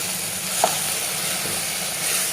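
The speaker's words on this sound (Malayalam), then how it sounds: "എന്നിട്ട് നന്നായിട്ട് ഇളക്കി കൊടുക്കുക" Spices and chilli are stirred in a hot frying pan with a pinch of asafoetida, making a low continuous sizzle under a broad steady hiss, with one brief utensil knock near the start and no voices.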